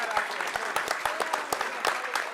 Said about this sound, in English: let's give a round of applause to the city